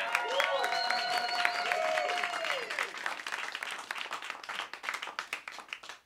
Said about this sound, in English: Let's hear it one more time for Vance Gilbert